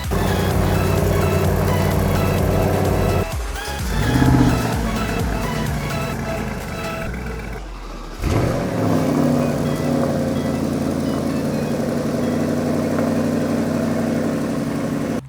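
Several car engines run and idle nearby in a hot Florida home driveway as family cars are shuffled into place, a steady loud rumble with a brief dip and surge midway, no voices.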